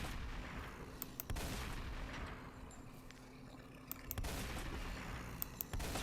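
Gunfire while shooting zombies in The Slaughtering Grounds video game: repeated sharp shots, some in quick rapid runs, over a constant dense rumbling game background, loud and close.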